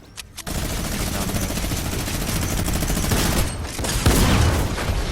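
Sustained automatic gunfire from a drum gun in a Fortnite Chapter 2 match, loud rapid bursts running almost continuously after a brief quiet start.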